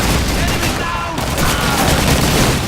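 Lee-Enfield bolt-action rifle fire in Call of Duty 2 cracks out among dense, continuous battlefield shooting that stays loud and cluttered throughout.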